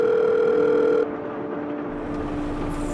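A telephone call rings out unanswered, with a steady tone filling the first second before fading into a quieter line hum and faint background noise.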